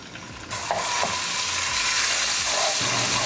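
Ginger, garlic and chili paste hit hot olive oil with cumin seeds, bursting into a loud, close sizzle that swells after a quieter start and carries on with stirring scrapes.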